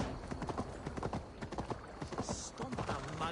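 Horse hooves clip-clopping at a gallop in Assassin's Creed Valhalla, a steady rapid rhythm of hoofbeats close by, with a brief whinny and game chatter mixed in.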